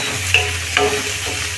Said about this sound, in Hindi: इतना बड़ा दालचीनी का टुकड़ा, 2 लाल मिर्च, सबको फ्राई कर लेंगे